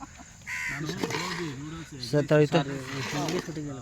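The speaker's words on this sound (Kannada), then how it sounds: "ಕಾಗೆ ನೋಡ್ಕಪ್ಪ" Harsh crow caws ring out close by, including a quick run of clipped calls, mixed in with people talking.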